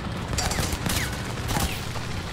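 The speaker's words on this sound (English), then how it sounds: "I hear gunshots. Who is shooting at me?" Gunfire in the tank battle game War Thunder crackles in rapid sharp bursts over a steady din of engine rumble, with several clustered volleys across the short span.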